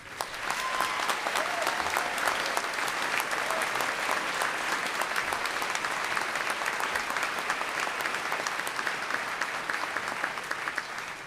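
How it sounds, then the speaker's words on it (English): A graduation audience claps for the faculty in steady, dense applause that fills the hall for about eleven seconds without a break. "I want a round of applause for the faculty."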